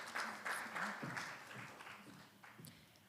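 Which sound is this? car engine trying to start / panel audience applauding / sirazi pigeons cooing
panel audience applauding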